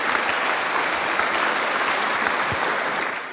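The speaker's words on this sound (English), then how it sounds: "Can I have a round of applause for Wright, Francesca, and Kevin" At a Bitcoin conference in Amsterdam, a crowd gives a panel of speakers a round of applause, a thick, continuous roar of clapping held at steady loudness, tapering slightly at the end.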